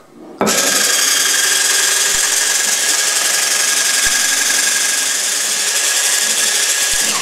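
An electric mixer whips a profiterole filling in a bowl, starting abruptly into a loud, steady whirring drone that runs without pause for about seven seconds, with a few faint knocks.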